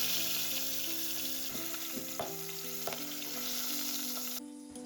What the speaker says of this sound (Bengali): চলুন এবার মাছগুলো ভেজে নিই।